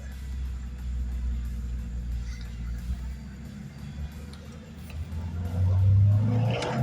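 A 1986 Honda Prelude Si on a test drive after a throttle cable adjustment, with a B16 intake manifold and replaced head: a low engine drone from inside the car that swells into a louder rev near the end.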